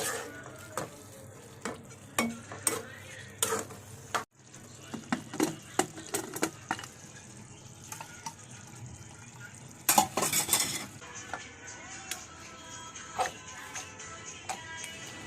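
Pav bhaji mashed finely in a pan, giving repeated sharp knocks and scrapes against the metal at an uneven rhythm, close and clear, with a brief pause partway through.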